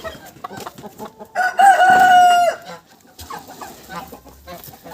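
A rooster crows loudly in a sustained, strained call, surrounded by scattered squawks and clucks from other poultry nearby, including geese and turkeys.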